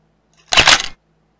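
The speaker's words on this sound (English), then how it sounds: "Now I'll take a selfie." A virtual camera shutter fires once for a selfie in AltspaceVR, a short soft burst of clicking noise lasting about half a second against near silence.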